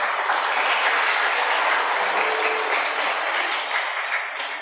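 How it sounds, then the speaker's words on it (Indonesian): Audience applause at a school graduation and farewell ceremony, a dense, loud, sustained wash of many hands clapping without breaks, tapering slightly near the end. "Tepuk tangan"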